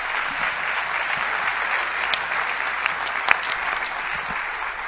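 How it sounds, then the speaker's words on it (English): Audience applause closing a lecture session on individuality from a physiological perspective, a continuous dense wash of clapping from a crowd, steady and moderately loud throughout. "So give them an applause."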